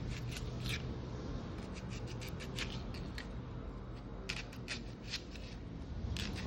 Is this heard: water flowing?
no